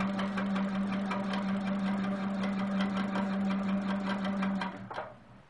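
Sewing machine stitching down a quilt's outer border along a curved ruler, a fast steady mechanical whir with rapid needle ticks, running evenly and close before stopping abruptly near the end.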